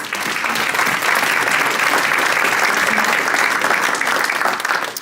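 Summit breakout session audience claps for Senator Lankford, loud sustained applause from a room full of people, swelling briefly and easing off at the close without speech.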